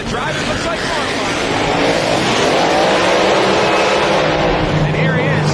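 A hot rod race car runs in a drag race semifinal, a loud roaring engine that swells as it accelerates and sweeps past, with crowd and track noise beneath.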